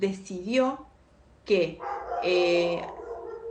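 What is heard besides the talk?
dog barking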